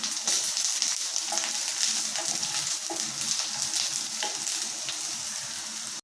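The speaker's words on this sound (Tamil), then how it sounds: "இப்போ வெண்டைக்காய் வந்து வதங்கிட்டு இவ்வளோ வதங்கினா போதும்" Okra sizzles and crackles steadily in a hot pan, a continuous frying hiss with occasional small pops and stirring scrapes.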